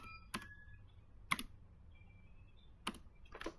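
A few isolated keystrokes on a computer keyboard, sharp quiet clicks spaced about a second or more apart, ending in a quick pair of taps, in a silent room.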